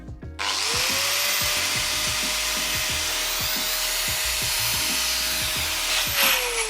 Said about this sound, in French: On va tout de suite la tester en branchant par exemple cette meuleuse qui fait 750 watts exactement.